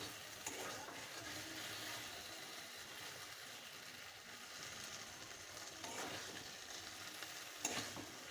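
Taro stolons cooked with kasundi mustard are stirred in a hot pan, giving a steady quiet sizzle broken by a few sharp scrapes of the utensil against the pan.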